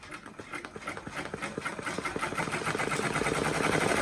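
An embroidery machine stitches a monogram onto a lunch tote at 800 stitches per minute, a steady fast mechanical rattle of rapid needle strokes that grows slightly louder and denser, close up with no talking.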